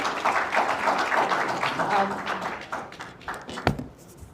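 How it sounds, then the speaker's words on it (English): Audience applause at a live event, a steady wash of many hands clapping that thins out and fades toward the end, with a voice talking over it. "a round of applause for him."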